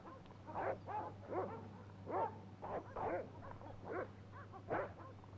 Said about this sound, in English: I wonder how many dogs there is.